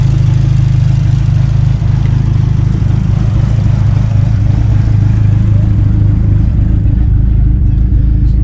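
A big-turbo Chrysler PT Cruiser SRT engine idles while warming up, a loud, close, steady drone holding evenly throughout with no change in pace.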